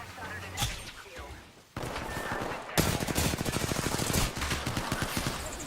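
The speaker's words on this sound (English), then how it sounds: "I'm under fire. Shooting." Rapid automatic gunfire from a shooting video game, arriving in fast rattling bursts that grow louder midway, mixed with game effects and a player talking over it.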